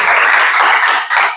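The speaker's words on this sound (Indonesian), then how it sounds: "tepuk tangan untuk Mbak Risma" Classroom applause for a student named Mbak Risma during a discovery-learning lesson: a dense, steady patter of many hands clapping together, loud and close, with a brief dip near the end.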